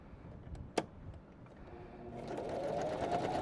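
A Janome 500 or 721 sewing machine starts up after a click and runs fast with a long stitch length, its rapid, steady whirring rising and holding loud to the end.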